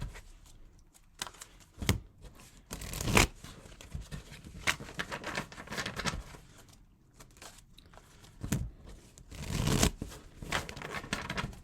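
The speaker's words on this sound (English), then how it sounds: "Let's do 2 or 3 more shuffles" Tarot cards shuffled by hand in several quick bursts of riffling and flicking, close and crisp, with brief pauses between them.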